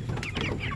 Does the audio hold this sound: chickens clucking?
yes